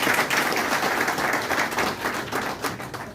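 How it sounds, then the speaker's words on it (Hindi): Audience applause at a Delhi SC/ST Federation gathering with a state minister, dense steady clapping from a large crowd filling the whole stretch at even loudness, tapering slightly near the end. "जोरदार ताली बजाइए इस बार।"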